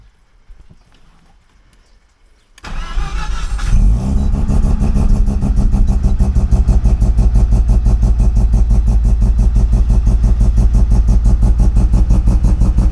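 A Mazda RX7 FD rotary engine with a sequential gearbox sits after a quiet start, then fires up abruptly and settles into a loud, steady, choppy idle with a rapid pulsing rhythm as it warms up.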